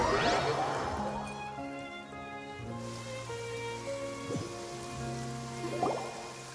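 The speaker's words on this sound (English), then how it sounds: "It's been raining non-stop for a few days now." Rain falls steadily in the video game Genshin Impact, a constant soft hiss of drops that holds through the whole stretch beneath sustained musical tones.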